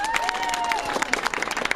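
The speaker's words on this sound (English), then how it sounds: "Give them a big round of applause." An audience claps in a brief, scattered burst of applause, with a short whistle-like tone at the start.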